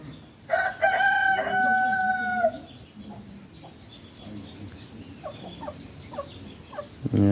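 On a farm compound with hens and a newly arrived rooster, a rooster crows loudly up close near the start, followed by softer, scattered clucks from the hens.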